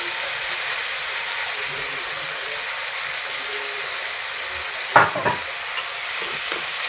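Onions and tomatoes fry in a pan for an aloo methi sabzi, making a bright, even sizzle that holds steady throughout, with a couple of brief utensil knocks near the end and no talk.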